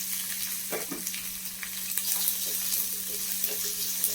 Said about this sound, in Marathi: तर आपण त्यात थोडंसं तेल टाकूया म्हणजे आपला कांदा चांगला भाजला जाईल.